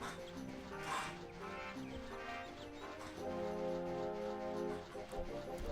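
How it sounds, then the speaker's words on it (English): A pet dog barks while playing, giving a few short barks over steady background music and game sounds, fairly quiet and somewhat masked. "That is my dog."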